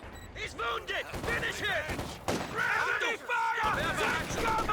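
Sharp gunshots from PTRS anti-tank rifles and other fire in the video game Company of Heroes 2, a few punchy cracks mixed with clatter under a commentator talking throughout.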